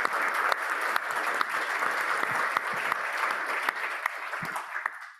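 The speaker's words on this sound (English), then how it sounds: "So round of applause for Seamus." Audience applause at a university terrorism forum, a dense steady patter of many hands with a few sharper individual claps, continuing evenly before fading out at the close.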